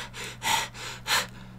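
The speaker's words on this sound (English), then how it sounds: "You're hearing breathing." Heavy breathing from the Star Wars Episode 9 trailer, two deep, harsh breaths in quick succession, close and fairly loud, over a low steady hum.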